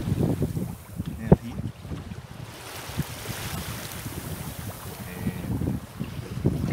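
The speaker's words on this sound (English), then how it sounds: "The wind's picked up a bit now that I'm just getting to the heads" Wind gusting over a small sailboat far offshore, with rushing microphone buffeting, water sloshing against the hull and occasional knocks from the rig, while someone talks briefly over it.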